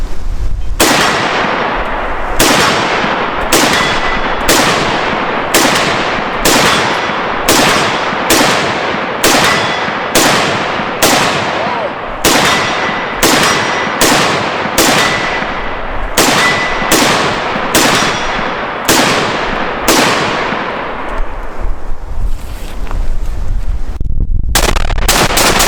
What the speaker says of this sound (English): Alright, you just saw us shooting. I shot 20 rounds off the bench